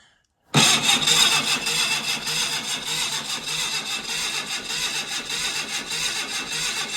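After a brief silence, the engine of a Triumph 1300 car left standing in a barn for 40 years abruptly starts up and runs loud and steady, with a rapid rhythmic pulsing throughout.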